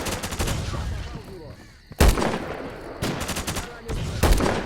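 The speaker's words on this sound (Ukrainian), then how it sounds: "Тут ще якась падла стріляє з гаус гвинтівки" Gauss rifle gunfire in the shooter S.T.A.L.K.E.R. Incubator, a set of sharp loud shots at intervals, amid a dense firefight of rattling gunfire and crackling noise.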